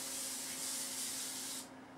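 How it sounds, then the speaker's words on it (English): Pam cooking spray sprayed onto a cookie sheet, one loud, close aerosol hiss lasting over a second and a half that then cuts off, with a faint hum underneath and no speech. "I'm spraying, even though it's a Teflon pan, and they say you don't need to spray your Teflon pans."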